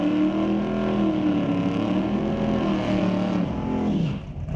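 A 1968 Chevy Camaro makes a drag race run in a Super Pro semifinal at a raceway: a loud, sustained engine roar with rising and shifting pitch that holds steady, then drops and fades near the end.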